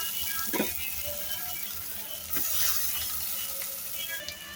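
Washed poha is stirred in a pan, with a soft sizzle running throughout and a few close scrapes and clinks of a spoon against the pan.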